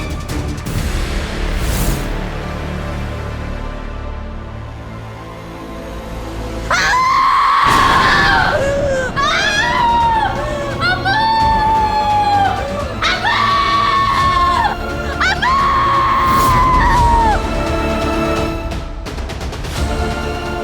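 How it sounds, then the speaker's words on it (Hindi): Screaming in a tense Hindi TV drama scene, with several long, loud wailing cries after a quieter stretch, rising and falling in drawn-out bursts with a dramatic music bed underneath. "हम उसकी चीखें नहीं सुन सकते।"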